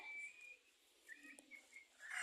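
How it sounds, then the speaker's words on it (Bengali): Sparrows in a bamboo grove at evening give faint, distant chirps and short whistled calls, scattered across a quiet background. "বাঁশঝাড়ের মধ্যে কত চড়ুই পাখি ডাকতেছে।"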